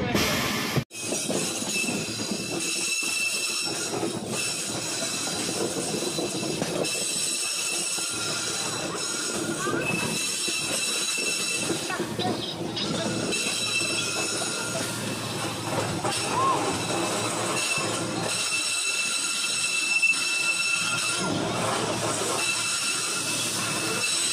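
The 12301 Howrah–New Delhi Rajdhani Express pulls into a platform at New Delhi, a long, steady rumble of rolling carriages with hissing brakes and thin, high wheel squeal, heard close from on board.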